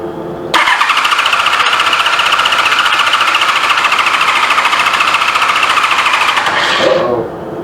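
Starter cranking on a 1985 Honda Goldwing GL1200 motorcycle after a carburetor rebuild with empty carbs, a loud continuous whirring grind for about six seconds that fails to catch, then cuts off.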